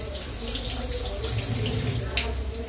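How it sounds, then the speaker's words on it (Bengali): Hands are rinsed under a running kitchen tap after cooking, a steady close rush of water splashing into the sink with small spattering bursts throughout. "হাতটা একটু ধুয়ে নিই।"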